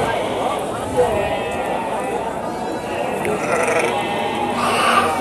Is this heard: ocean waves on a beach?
no